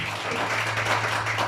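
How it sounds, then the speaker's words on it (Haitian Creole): A church congregation at a Sunday service breaks into dense, sustained applause, many hands clapping together for the whole short stretch. "il mérite applaudissement pour applaudir"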